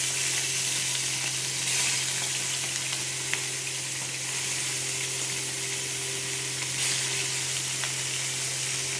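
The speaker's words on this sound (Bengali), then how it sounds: "এভাবে মাছগুলো সব ভেজে নেব।" Bata fish pieces, rubbed with salt and turmeric, sizzle steadily in hot oil, a continuous close crackling fry with occasional small pops throughout.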